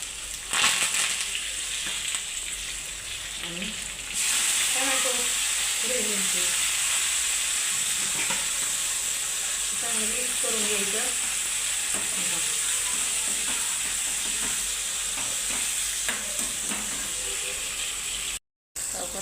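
Cumin, garlic and curry leaves sputter and sizzle in hot oil, a steady close crackle with occasional stirring and faint background voices.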